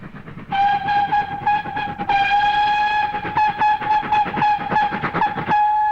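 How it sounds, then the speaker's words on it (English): A steam train on the Princetown Railway across Dartmoor sounds a shrill, sustained whistle blast, loud and near, over rhythmic chuffing and clattering of the moving train. "blow a shrill blast just as the train was rounding the bend"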